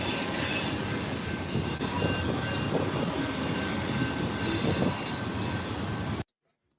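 A noisy train passes close by, with steady loud rolling clatter and wheel squeal throughout, alone without voices, before cutting off abruptly near the end.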